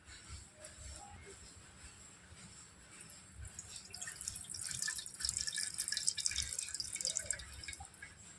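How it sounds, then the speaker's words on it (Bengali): Water splashes and drips as sago pearls are washed in a bowl, with soft wet sloshing close by that grows louder and brighter toward the end. "জল দিয়ে এবার সাবুদানাটা আমি খুব ভালো করে ধুয়ে নেব।"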